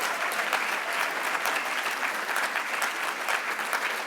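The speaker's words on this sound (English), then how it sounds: "let's just give him a big round of applause" Steady, dense applause from a large audience at a cultural diversity awards ceremony in the Fraser Valley, sustained at an even level with no voices above it.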